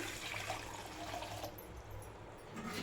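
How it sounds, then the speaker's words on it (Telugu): Water is poured into a pot on the stove for gulab jamun sugar syrup, a faint, continuous splashing trickle heard close and alone. "దీంట్లో వాటర్ వేసుకోవాలి."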